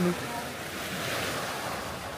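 Surf rushes and hisses with a steady wash of breaking waves on a beach in Davao Oriental, Philippines, mixed with wind buffeting the microphone.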